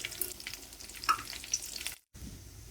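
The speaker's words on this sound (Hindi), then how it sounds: "दोनों तरफ से हम फ्राई कर लेंगे।" Aloo tikki potato patties frying in oil, a soft steady sizzle with faint crackles, briefly cut to silence near the end before resuming.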